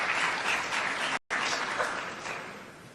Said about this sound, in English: Please, you must all clap for her.